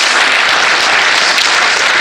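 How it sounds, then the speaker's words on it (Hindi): Dense, loud applause from a large audience fills a hall at a speech event, a continuous wash of clapping without pause. "जोरदार तालियां होनी चाहिए।"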